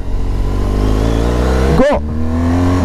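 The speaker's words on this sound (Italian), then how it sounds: "Sentite che sdoppiate anche da solo quando scaliamo." A BMW R1200 GS Rallye motorcycle engine rumbles loudly and close, then a sharp automatic throttle blip on a clutchless downshift cuts through the drone before it settles back to a steady note.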